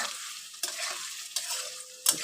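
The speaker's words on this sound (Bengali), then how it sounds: "ভাজা ভাজা করে নিলাম পনির আর আলুটা।" Cubes of paneer and potato, fried with a little salt, sizzle softly in a pan, with three crisp scraping stirs of a spatula breaking the steady frying hiss.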